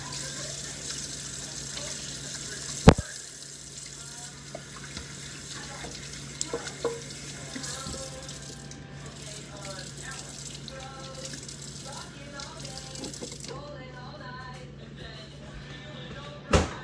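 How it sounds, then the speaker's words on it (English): Tap water runs steadily into a sink while hands are washed before cooking eggs, a continuous hiss with a couple of sharp clunks and faint background noise. "Wash my hands first."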